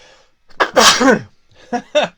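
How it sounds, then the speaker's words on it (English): A loud, close sneeze with a sharp wind-up breath, followed by a couple of short sniffing, throat-clearing sounds. "Hold on, I'm going to sneeze."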